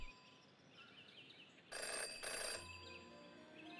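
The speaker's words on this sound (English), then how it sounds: "Jenny had learned never to ignore a ringing phone" A telephone rings in the detective video game Jenny LeClue, two bright bursts of bell-like ringing over a quiet ambient background, with no talk during the rings.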